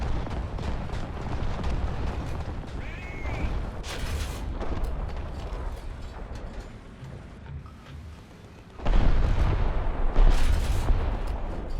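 Tank cannon and artillery fire in War Thunder, played in an M4A2 75mm tank: loud, rumbling, continuous battle noise with booming blasts, the heaviest barrage near the end, with no talk over it.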